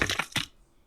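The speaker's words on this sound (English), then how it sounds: "for mining, I do have rock crumble that I have downloaded" A downloaded rock crumble effect for mining in a game: a brief, close gritty crunch of breaking stone in two or three quick bursts, then silence.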